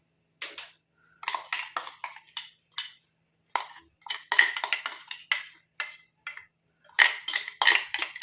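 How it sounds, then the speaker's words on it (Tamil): Ground paste is scraped and stirred in an iron kadai, giving close, sharp metallic clinks and scrapes in irregular bursts separated by brief silences. "அடுத்து நம்ம ஒரு இரும்பு கடாயின்னு எடுத்துக்கலாம் இப்போ நம்ம அரைச்சி வச்சுருக்க அந்த விழுதை வந்து உள்ளே சேர்த்துக்கலாம்"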